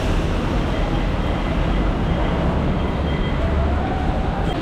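A loud, steady rumble of a train in Manila fills the clip, a continuous roaring drone with rattling undertones and no pauses.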